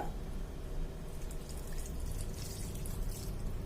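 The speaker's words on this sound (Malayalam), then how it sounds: "ഇനി ഇതിലേക്ക് നമുക്ക് കുറച്ച് വെള്ളം ഒഴിച്ചു കൊടുക്കാം" Water poured into mutton curry (Kashmiri rogan josh) in a pressure cooker, a soft steady trickle and splash running continuously, fairly quiet and close, with no talk.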